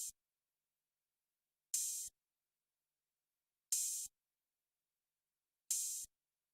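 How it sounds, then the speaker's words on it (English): Open hi-hats in an FL Studio trap beat ring out four times at steady, widely spaced intervals, each a bright, hissy wash lasting a fraction of a second, with silence between. "the next sound is some open hats, and they sound like this."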